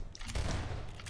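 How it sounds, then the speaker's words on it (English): A short burst of video-game gunfire from Garry's Mod cracks out as a dense, booming rattle of rapid shots lasting about a second, loud and close. "Ow, you hit me. You're shooting me."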